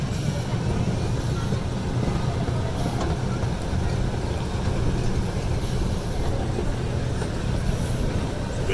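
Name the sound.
amusement park train ride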